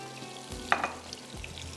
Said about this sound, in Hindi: बस अब थोड़ा सा पालक को भून लूँगी